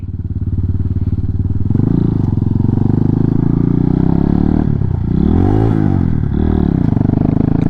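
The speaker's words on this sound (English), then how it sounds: "Accidental rev bomb." Up close, a Hyosung GT250 motorcycle engine idles with a rough, loud rumble. It gives a couple of sudden revs midway, rising and falling in pitch before settling back to idle.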